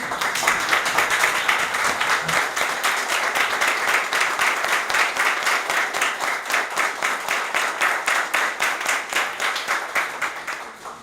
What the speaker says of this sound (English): I think it is appropriate that we stand and give Dr. Rice a round of applause.